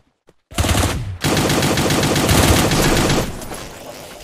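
Rapid automatic gunfire aimed at the player in the game Cyber Hunter, starting with a single shot and then a loud, sustained stream of machine-gun bursts that fade out near the end.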